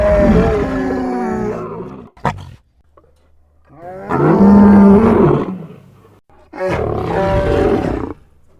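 A Chewbacca-style creature voice built from animal snarls, including lion and tiger, in three loud, close, drawn-out growling roars with brief silent gaps and a short snort between the first two.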